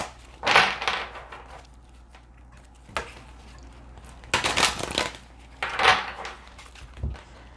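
Oracle cards being shuffled by hand, giving several short bursts of riffling and rustling with quiet pauses between them, close and alone with no talk.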